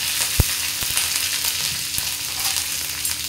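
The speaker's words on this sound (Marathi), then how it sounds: "हिरवी मिरची घालूया।" Green chillies fry in hot oil with mustard seeds and curry leaves, giving a continuous close sizzle with one sharp pop and faint stirring clinks, no speech.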